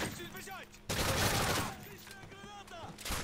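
Bursts of automatic gunfire in Modern Warfare 3 Spec Ops Survival, a sustained loud volley in the middle flanked by shorter shots, with voices and game effects around it.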